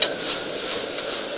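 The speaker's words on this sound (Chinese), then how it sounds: "把它翻炒均匀" Beef and okra being stir-fried over high heat in a wok, an even bright sizzle with soft scraping as the ingredients are tossed, close and continuous with no voices.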